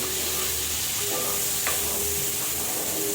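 Mushrooms fry in a pan with a quiet, steady sizzle and a few light stirring scrapes, no voices.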